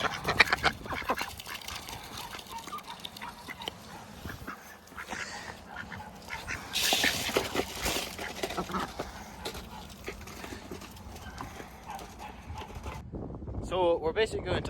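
Farmyard ducks quacking and jostling as they are fed, a busy overlapping chatter of calls with scuffling and clattering, while a person talks over the noise throughout.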